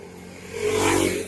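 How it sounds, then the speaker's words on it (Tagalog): Traffic on a busy road beside a park in Marikina, with a car engine swelling as it passes close by and then fading, over a steady low rumble of more vehicles. "Mahirap na pala tumawid dito ngayon, no? Kasi ang dami sasakyan."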